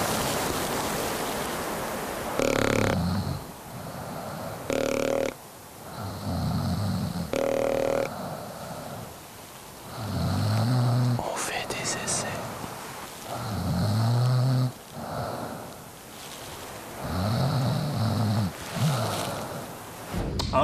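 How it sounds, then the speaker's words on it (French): A hunter snores during a deer-hunting trip on Anticosti Island, heavy rasping breaths recurring in slow rhythm every few seconds, close and fairly loud, with broadband noisy bursts between quieter stretches. "le petit fin qui ronfle"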